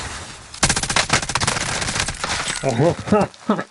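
Rapid machine gun bursts from Call of Duty Warzone gameplay, dense repeated shots filling most of the moment, loud and close, with a voice talking over the later part.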